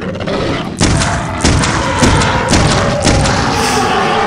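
Gunfire in the video game Clive Barker's Undying comes as several loud, booming shots and thuds in quick succession over a dense, noisy game soundscape.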